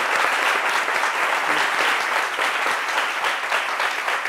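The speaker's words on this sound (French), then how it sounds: "Applaudissements pour Paulus Sagaton." Loud, steady audience applause fills a French midday television show as a guest is welcomed, a dense wash of many hands clapping continuously without voices.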